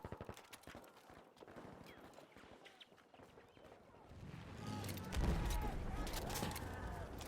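Faint rapid bursts of M3 carbine gunfire in a Battlefield shooter game, a string of sharp quick cracks early on, giving way to a duller rumbling background under a voice.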